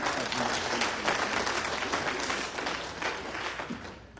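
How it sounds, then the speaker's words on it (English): Audience at a public talk in the USA applauding together, a dense, steady wash of clapping that holds at an even level throughout before easing slightly toward the end. "Let's clap for ourselves."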